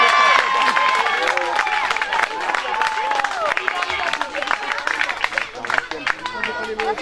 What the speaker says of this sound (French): Allez, on fait les applaudissements bien fort